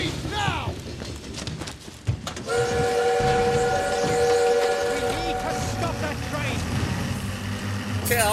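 A steam train in the Call of Duty WWII video game sounds a long, loud whistle over rumbling wheels, with clanking and shouted voices at the start before the whistle holds steady.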